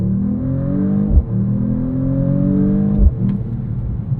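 A 604 hp inline-six in a 2026 Mercedes-AMG E53 wagon pulls hard, its rising engine note broken by two quick speed-shift upshifts, each marked by a brief thump before the revs climb again, loud from inside the cabin.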